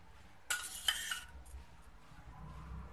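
Thick pineapple puree poured into a kadai for halwa, a brief wet splatter and sizzle with a few clinks, then quiet low kitchen rumble.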